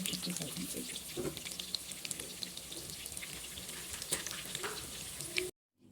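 Seekh kebabs frying in a pan, a soft continuous sizzle with light crackles and faint scraping, fairly quiet and close, cutting off abruptly at the end.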